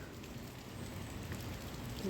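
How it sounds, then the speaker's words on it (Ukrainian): Light, fine drizzle falls outdoors in England beneath a tree shedding its leaves, a faint continuous patter that stays quiet and even throughout. "Сьогодні знову дощ, такий мілкий-мілкий."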